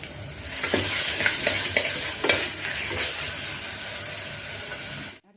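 Vegetables and spices sautéing in oil in a pan for foxtail millet veg biryani, a steady sizzle broken by repeated scraping strokes of a spoon, close and alone, cutting off abruptly at the end.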